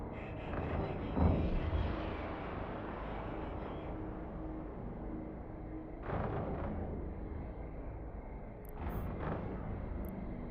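Ship weapons firing at a locked target in EVE Online, several heavy booming volleys spaced a few seconds apart over a constant rumbling engine drone, with faint high blips near the end.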